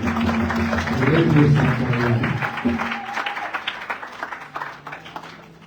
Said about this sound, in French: Acclamez pour la gloire du Seigneur